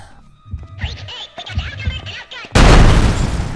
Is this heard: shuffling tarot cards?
no